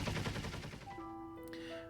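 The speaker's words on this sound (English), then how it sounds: "They each fire a volley of bullets from their MK-48 cannons." A rapid burst of machine-gun fire from MK-48 cannons in a video game battle, a fast rattling volley near and loud that breaks off into ringing electronic tones and a faint alarm-like beep.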